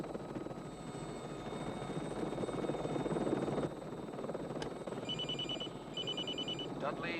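Blue Thunder helicopter from a film, its rotor in whisper mode as a steady muffled drone, with a telephone ringing in electronic bursts near the end.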